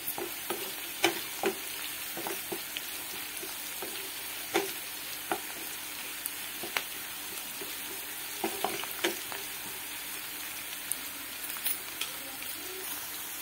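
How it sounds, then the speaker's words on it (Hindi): Onions frying with salt in a pan for mushroom biryani, a steady soft sizzle with occasional stirring scrapes and clicks, fairly quiet and continuous. "जैसे ही प्याज फ्राई हो रहा है उसमें थोड़ा सा नमक डाल देंगे ताकि प्याज जल्दी से फ्राई हो जाए"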